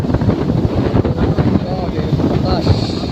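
Strong gusting wind buffets the microphone outdoors, a loud continuous roar with rushing surges strong enough to knock over motorbikes, persisting throughout with no clear voices.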